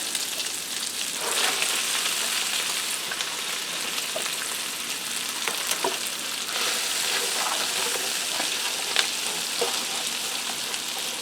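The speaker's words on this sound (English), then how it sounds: "I have a head of cabbage here I sliced up. I'm going to get that in there." Sliced cabbage sizzling in a pan with onions and kielbasa, a loud, steady, close crackle that holds throughout, with occasional light stirring clicks and no talking.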